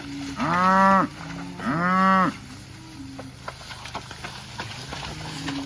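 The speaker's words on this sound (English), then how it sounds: "Look at that cow herd come through that gate." Two loud, long moos from nearby cattle, one right after the other, followed by quieter shuffling and hoof clatter of a herd moving through a gate to graze water sedge.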